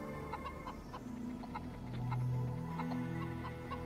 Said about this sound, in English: There are 10 chickens here too.